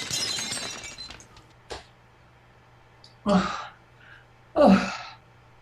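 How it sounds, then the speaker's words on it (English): A plate glass window shatters in two separate loud, bright crashes a second or so apart, each spraying sharp breaking-glass debris, with a faint hum and a brief tap between them. "Feel a perfect recreation of you being thrown through the plate glass window at Pizza."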